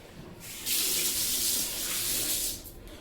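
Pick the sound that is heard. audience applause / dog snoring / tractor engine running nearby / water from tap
water from tap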